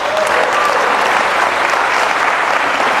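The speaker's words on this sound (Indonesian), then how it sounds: "Berikan sorak-sorai buat Tuhan Yesus." A church congregation claps and cheers for Jesus in a dense, continuous burst of loud applause filling the room, with no clear voices standing out.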